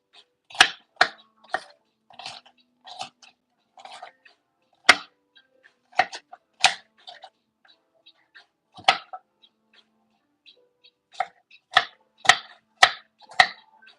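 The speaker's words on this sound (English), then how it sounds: "Usually, whenever I cut my onions, I don't like to cut too thinly." A knife chopping onions finely on a cutting board for tuna macaroni salad: crisp, close, irregular taps in quick clusters with brief pauses, alone without talk.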